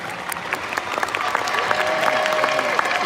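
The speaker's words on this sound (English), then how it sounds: "please show your thanks and applaud these dedicated individuals who guided you along your journey" Graduates at a commencement ceremony applauding their faculty: a steady wash of crowd clapping, dense and sustained, with a few scattered voices and cheers mixed in.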